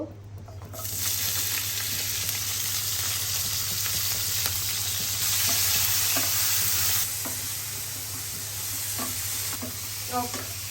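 Chopped onions go into oil for an egg bhuna and set off a loud, continuous sizzle close by, with a low steady hum behind it and light clinks of stirring toward the end.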